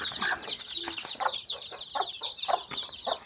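Hens cluck in short, repeated bursts while chicks peep continuously in the background, close by with no talking.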